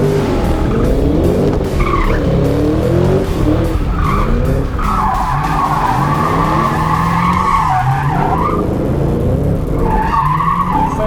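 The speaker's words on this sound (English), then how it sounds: "Let's give them some donuts." A Ford Mustang EcoBoost spins donuts in a loud, close burst of engine revving and screeching, skidding tires that swell and fade as it circles, with no speech over it.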